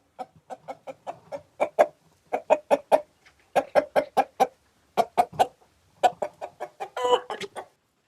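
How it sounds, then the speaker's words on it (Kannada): A Bhimavaram rooster clucks in rapid bursts of short, sharp calls, close and loud, with brief pauses between the runs and a harsher squawk near the end. "ನೋಡಿ ಯಾವ ತರ ಇದೆ ಅಂತ ಇದು ಹುಂಜ."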